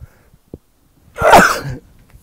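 A single sharp, loud burst like a cough or sneeze, close by, lasting about half a second, with quiet room sound and small clicks around it.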